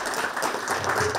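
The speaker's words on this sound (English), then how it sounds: "Please join me in giving a hearty welcome and a big round of applause for our guest" An audience at a World Food India 2023 conference session applauds a guest in a dense, steady burst of clapping that fills the whole stretch.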